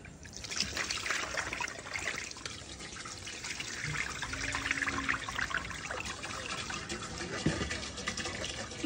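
Running water trickles and splashes steadily over papaya pieces being rinsed for papaya preserves, a continuous close pouring sound with slight shifts in flow.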